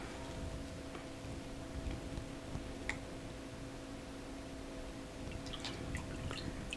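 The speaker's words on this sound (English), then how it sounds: "You can hear a little sizzle there as it cools off." A hot ceramic mug sizzling faintly as it cools in water, a steady soft hiss scattered with tiny pops and crackles.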